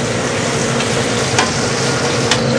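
Veal scaloppini fries in a pan, seasoned with salt and pepper, making a loud, continuous close-up sizzle with faint stirring scrapes and no voices.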